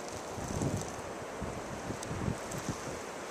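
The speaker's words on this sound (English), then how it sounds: "Hear that? Hear that wind?" Strong blizzard wind gusting steadily outdoors at night in a snowstorm, a continuous roaring rush with buffeting swells, no talk.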